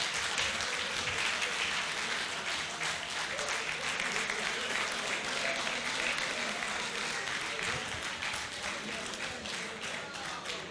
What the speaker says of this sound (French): les applaudissements spontanés traduisent la qualité de votre intervention